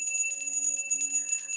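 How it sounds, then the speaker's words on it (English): A small bell rung once at the start of a tarot reading, its bright high ring sustaining and shimmering steadily for the whole moment, clear and close with no speech. "Let's ring our bell here."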